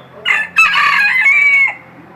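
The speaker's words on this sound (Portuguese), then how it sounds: "cadê o galo que o pessoal falou que canta" A rooster crows once loudly and close by at an urban park in Maringá, a single drawn-out cock-a-doodle-doo rising after a short opening note and fading at the end.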